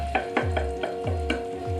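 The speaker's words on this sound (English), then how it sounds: "Give it a final stir, make sure it's not stuck or it's not burnt" Rice stirred in a pan while making creamed chicken with mushrooms, giving about six rhythmic scraping sweeps of a spoon against the pan over a steady low hum, close and moderately loud with no talking.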